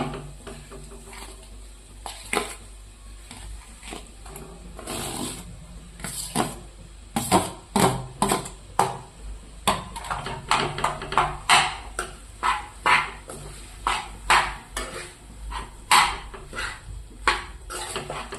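Vada pav potato filling with green chillies frying in a pan, a spoon scraping and clanking against the metal in repeated strokes over a steady low sizzle, growing busier and louder in the second half.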